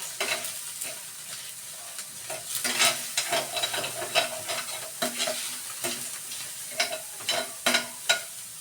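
Bakoko fish frying in a pan, a steady close sizzle broken by frequent scraping and clattering strokes of a utensil, busy and continuous throughout.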